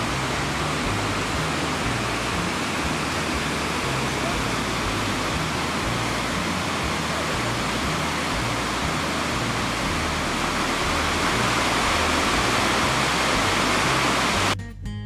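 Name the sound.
Tower Falls waterfall and creek in Yellowstone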